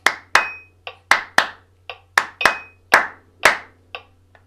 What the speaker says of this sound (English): that's a little bit of a clap there just to get things moving